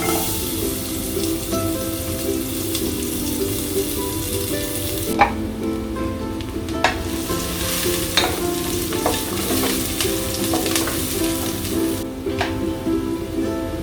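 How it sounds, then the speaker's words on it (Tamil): Sliced onion and a single garlic clove fry in hot sunflower oil in a pot, producing a steady, close crackling sizzle throughout, with occasional sharper pops and stirring scrapes. "இதில் பார்த்தீங்கன்னா வெங்காயமும் ஒரே ஒரு பூண்டு மட்டும் இதோடு சேர்க்குறேன் நான்."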